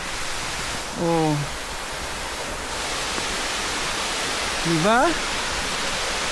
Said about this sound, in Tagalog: Meron ako naririnig eh, parang agos ng tubig.